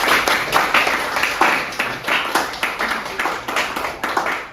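A classroom of students claps together, a steady, fairly loud burst of applause that goes on for several seconds with no talking over it.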